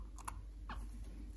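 A few keys tapped on a keyboard while entering text in an HTML editor, quiet scattered clicks in small bursts over faint background hiss.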